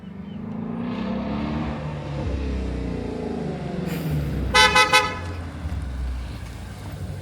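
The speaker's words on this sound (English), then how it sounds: "Oh geez, another loud car." A loud car rolls in with a deep, rumbling engine drone, and a short cluster of horn toots cuts through midway before the engine noise carries on.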